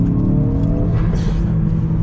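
A Ford Focus RS driven hard on back roads, with traction control turned off, growls and climbs through its revs in a loud, close engine drone with no one talking over it.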